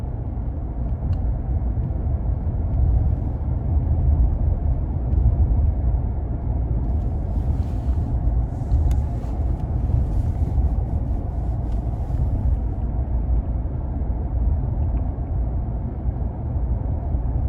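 A 2022 Nissan Frontier SV King Cab cruises down a back road at about 45 mph, with a steady, loud low rumble of engine and road noise throughout and no talking.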